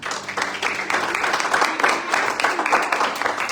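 A church congregation applauds the Lord during an evangelical sermon, a dense crowd of clapping hands sustained at steady volume throughout.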